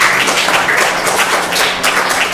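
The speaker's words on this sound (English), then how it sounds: "So please give yourselves and the youth a nice round of applause." An audience at a Sunday community program gives a round of applause for the youth, a dense steady patter of many hands clapping, fairly loud and continuous with no talk over it.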